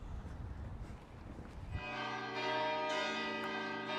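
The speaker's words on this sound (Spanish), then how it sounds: "Suenan las campanas, Andrea," Large cathedral bells suddenly ring out for the Angelus after a moment of muffled background noise, their rich tones sustaining and overlapping, loud and close.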